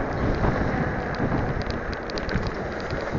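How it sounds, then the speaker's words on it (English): Strong wind buffeting a small action camera outdoors, a loud continuous broadband roar with gusty swells throughout, no talk. "But very windy today."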